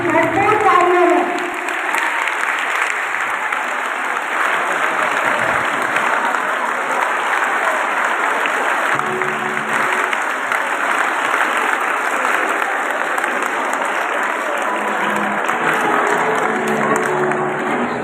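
Sustained applause from the audience at a provincial education minister's address in a government graduate girls' college hall, steady and full for the whole stretch, with a short burst of voices at the very start.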